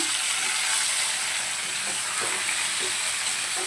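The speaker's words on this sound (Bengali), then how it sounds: "এখানে সবজিগুলো ভাজা হয়ে গেছে আমি ডিমেটা দিয়ে দিয়েছি" Egg and vegetables frying together in a pan for a vegetarian lunch, giving a steady, close hiss and crackle of hot oil with a few soft stirring knocks, no voices over it.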